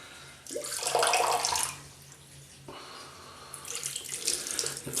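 Water tipped out of a shaving bowl pours and drains into a sink in a loud splashing burst, then fades to a quieter trickle before a second run of splashing water.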